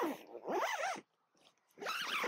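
The zip on an Outwell Wood Lake tent awning is pulled open in two quick, crisp rasping strokes, separated by a brief pause, close and clear.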